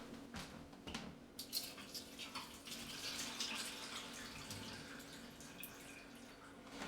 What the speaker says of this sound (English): fill it up with water so we can cook it